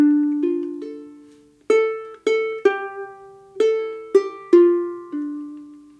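Ukulele picking the opening phrase of the St. James Infirmary Blues melody in a chord-melody arrangement, starting on a pickup, with about eight plucked notes and strummed chords ringing clearly in a slow, measured rhythm, played alone.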